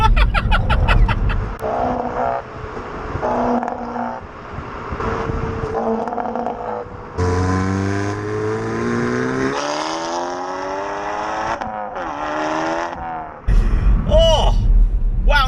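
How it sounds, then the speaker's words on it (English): A Hyundai i30N hot hatch with its exhaust baffle open accelerates hard through the gears, the engine note rising in long sweeps between shifts, with crackling pops and bangs on lift-off and someone talking over the cabin noise. "Oh, it pops and bangs as well."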